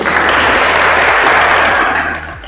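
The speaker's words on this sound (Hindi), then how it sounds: "तालियां बजाओ उनके लिए।" Audience clapping in a lecture hall, loud and dense from the start, then tapering off toward the end.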